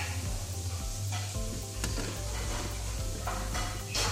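Parsley sizzling and being stirred in a warm pan for a pasta bake, a steady close frying hiss with light scraping and utensil clinks throughout.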